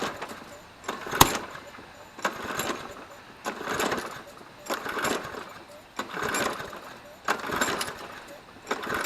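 Repeated pull-cord start attempts on a Craftsman Platinum lawn mower with a short cord, about eight rhythmic rasping pulls, each with a brief sputter, none catching, as someone talks.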